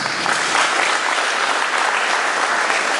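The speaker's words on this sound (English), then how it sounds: "Can you guys give yourself a big applause?" Steady, loud audience applause fills the room without a break, dense clapping from a crowd that came out despite the rain.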